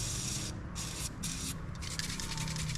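Short bursts of aerosol spray hiss onto threaded ports on a manifold of an impounded Dodge, three or four close, moderately loud blasts with pauses between them.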